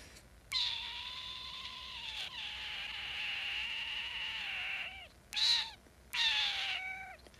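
A voice imitating a cat, with one long drawn-out meow followed by two shorter meows, clear and close with no other talk.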